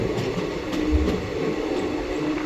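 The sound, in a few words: passenger train running, Howrah New Delhi Special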